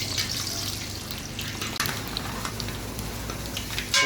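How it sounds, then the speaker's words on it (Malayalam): Chopped coconut sizzles in oil with a steady, soft crackling hiss, close up, with no talking. "എണ്ണ ഒഴിച്ചതിന് ശേഷം തേങ്ങ ചെറുതായിട്ട് അരിഞ്ഞത് വറുത്ത കോരുക"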